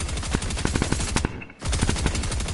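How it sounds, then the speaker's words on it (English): Rapid bursts of Fortnite gunfire hammer a target in dense, fast repeated volleys, with a brief pause near the middle before the shooting resumes, loud and close throughout. "So when I started shooting at this thing,"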